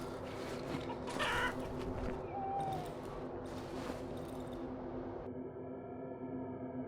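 Chickens in the game Darkwood clucking and squawking in short bursts over a low droning ambience, fairly close, ending in a steady tonal hum.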